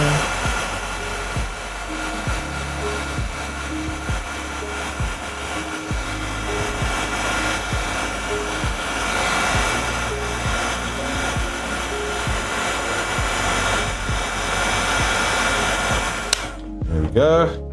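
A hair dryer blowing on wet paint gives a loud, steady close whoosh that runs almost continuously, with faint knocks underneath, before cutting off near the end.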